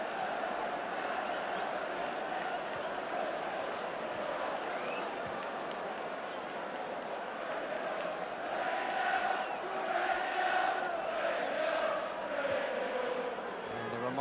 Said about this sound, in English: And a reminder of the score from the crowd.